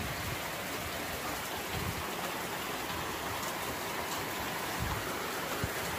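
Steady rain falls during a storm, a faint, even hiss of drops on surfaces with an occasional low bump, no voices.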